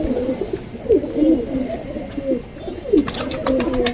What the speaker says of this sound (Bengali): এই যে নাপ্তা কবুতর